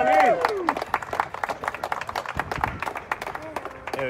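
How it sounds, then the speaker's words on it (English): A small group of workers claps at a memorial garden build as the first statue goes into the ground, a quick burst of sharp, close claps with a voice heard at the start and again near the end. "Let's get a round of applause."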